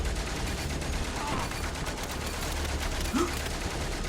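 Rapid bursts of gunfire in the video game Corações Valentes crackle continuously under a noisy, busy background, with brief faint sound effects mixed in.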